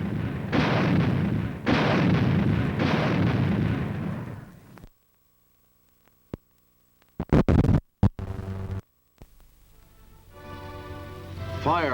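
An automatic anti-aircraft gun fires shells, starting with a long roaring barrage, then after a silent pause a few sharp separate blasts and a rumbling tail; loud and heavy, with narration over parts.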